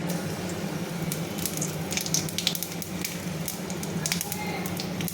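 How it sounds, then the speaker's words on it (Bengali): Nigella seeds sizzle in a little hot oil for a thin hilsa fish and eggplant curry, a steady close crackling hiss that runs throughout with small pops and no speech. "এবার আমি কালো জিরা ফোড়ন দিলাম"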